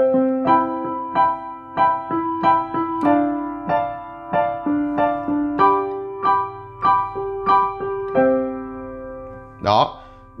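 A piano plays a looping chord progression, struck chords roughly every half second in a steady rhythm, close and clear with no talking until a brief sound at the end.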